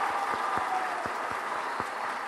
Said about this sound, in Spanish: quiero ahora agradecerles a ustedes que hagan un gran aplauso